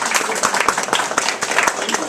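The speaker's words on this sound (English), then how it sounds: "let's give him a round of applause." A small workshop audience gives the speaker a round of applause at a hand analysis workshop, a few distinct hands clapping close by with individual claps audible, alongside a brief cheer and voices.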